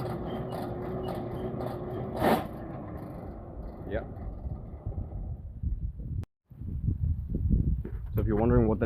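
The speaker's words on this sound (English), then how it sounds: "then that fan hits the side of the casing, and it creates a lot of noise" Fan inside the blower of an old foot-driven forge rubs against its casing, producing a continuous rough scraping whir with brief surges and a momentary dropout.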